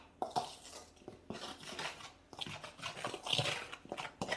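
A utensil stirs dry croissant ingredients together in a bowl, giving soft, uneven scraping and light clinks against the sides. The sounds are quiet and close, with no talking.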